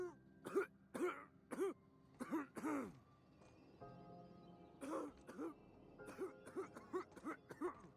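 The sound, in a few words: sick woman coughing in the video game The Outer Worlds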